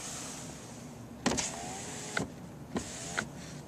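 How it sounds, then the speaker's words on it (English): Electric power window motor on a Lexus LS600h sedan, whirring in two short runs with a soft thump as each stops, heard close inside the cabin over a quiet hum. "If I wish to use the button a little bit more, maybe I just want to crack the window,"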